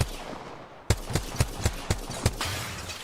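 Gunfire in Apex Legends: a rhythmic series of about seven sharp, close shots spaced roughly a quarter second apart, with quieter ambience before and after.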